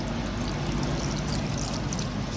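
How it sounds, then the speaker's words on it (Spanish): Vinegar pours steadily over anchovies in a dish, giving a continuous close splashing trickle that stays even throughout, with no voices. "le echamos el vinagre"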